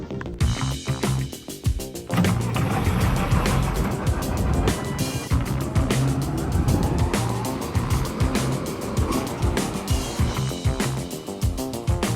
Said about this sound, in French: Le camion arrive tout là-bas.